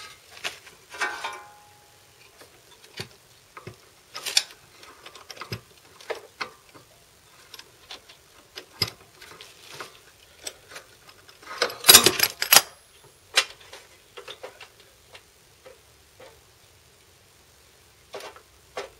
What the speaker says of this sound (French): j'ai mis une clé de 13 de l'autre côté pour les desserrer